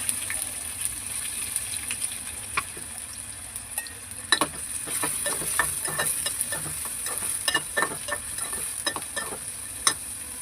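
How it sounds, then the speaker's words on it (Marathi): Chopped onion frying in hot oil for a Konkani-style prawn masala, a steady close sizzle with scattered sharp crackles and spoon scrapes clicking through the pan, no voices. "तेल छानपैकी गरम झालंय, त्याच्यामध्ये चिरलेला कांदा टाकूया."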